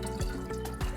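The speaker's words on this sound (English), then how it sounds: "So at this point, I can probably just pour it in and hope for the best." Sugary sweet tea poured from a container into glass kombucha jars during home brewing, a short splashing, gurgling stream with small liquid drips, close and fairly quiet.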